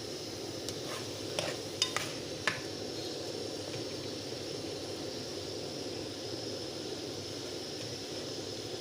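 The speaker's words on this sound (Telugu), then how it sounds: "ఇప్పుడు ఈ మసాలాలన్నీ బియ్యానికి పట్టేటట్టు మంచిగా కలుపుకోవాలి" Spice masala being stirred into washed rice with tomato paste and onion for egg pulao, a steady soft scraping and low sizzle throughout with a few sharp clicks of the spoon against the pot early on.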